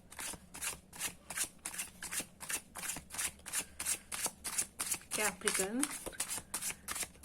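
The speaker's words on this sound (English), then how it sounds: "Let me shuffle the cards a bit, just giving them a final shuffle." Tarot cards shuffled by hand in a rapid, steady riffling rhythm of about two bursts per second, close and crisp, with a voice talking over part of it.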